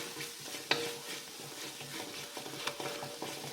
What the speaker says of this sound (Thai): สุกแล้ว เราก็มาผัดอีกทีหนึ่ง